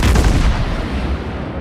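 The Soviet cruiser Molotov's main gun batteries fire in the World of Warships naval game: a loud, dense booming blast that rolls on with no pause, close and heavy.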